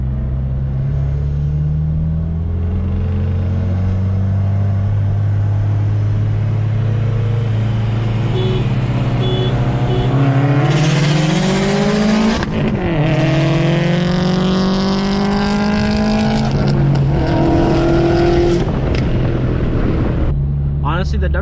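A Stage 2 tuned Subaru WRX accelerates hard, engine note rising steadily through a gear, then a shift and another climbing pull, loud and close with a deep rumble throughout.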